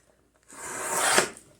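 Paper being cut for a junk journal: a single close, soft rasping slice lasting about a second, rising then fading, in an otherwise quiet room.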